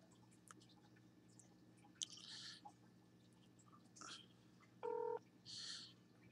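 Dialing tones from a Motorola Cliq XT smartphone running MotoBlur on Android 2.1 during a phone call: short separate keypad beeps with quiet gaps between them over a low background hum.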